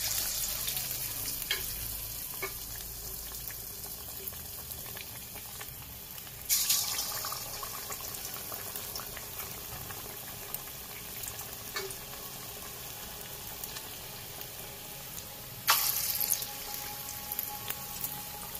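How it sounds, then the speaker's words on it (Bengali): Cornflour-coated pieces fry in hot oil over a high gas flame, producing a continuous close sizzle and crackle with brief louder bursts of spattering. "ভাজতে দিয়ে দিয়েছি একবারে যতগুলো হয়। গ্যাসটা জোরে দিয়েছি"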